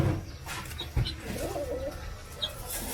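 Pigeons coo softly and repeatedly near their eggs and chicks, low throaty calls mixed with rustling and a murky background.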